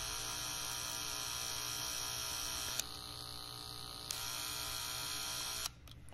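A corded electric hair clipper hums steadily in a barbershop, a constant buzzing drone with a couple of brief clicks before it cuts off near the end.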